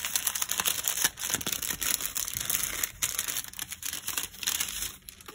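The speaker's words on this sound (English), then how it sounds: "Sorry for the noise of the plastic." Plastic packaging crinkles and crackles loudly up close, in irregular bursts of handling and rustling that continue throughout.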